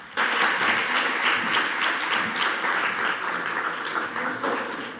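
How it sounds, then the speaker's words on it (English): An audience at an awards press conference applauds, a steady, fairly close wash of many hands clapping that holds evenly for several seconds. "Big round of applause, please."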